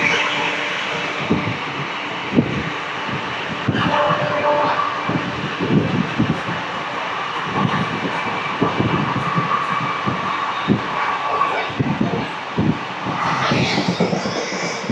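The Raja Rani Express, a Kerala train, runs alongside on the next track, making loud continuous rumbling with rapid rhythmic clatter of wagons on rail joints close by for about fifteen seconds.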